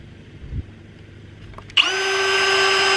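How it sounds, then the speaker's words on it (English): A cordless drill bores a new hole in wood, starting abruptly after a quiet moment with a soft knock, then whining at steady high speed and holding loud and even to the end. "So we'll drill a new hole."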